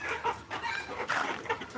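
A black chicken on a farm gives a brief run of soft, close clucks, several quick throaty notes packed into under two seconds.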